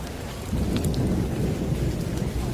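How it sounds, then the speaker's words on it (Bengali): Heavy rain bursts in suddenly and pours steadily with a low rumble of thunder beneath it, loud, dense and close, with no voices. "এক মুহূর্তেই ঝমঝম করে শুরু হলো মুষলধারে বৃষ্টি সঙ্গে বজ্রপাতের ঝলকানি"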